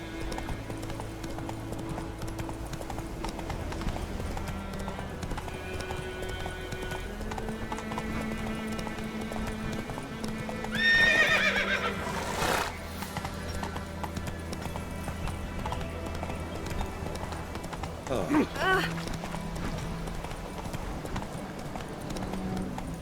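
A horse gallops with rapid, steady clip-clop hoofbeats throughout in the video game The Witcher 3, with a loud whinny near the middle, another shorter one later, and faint music underneath.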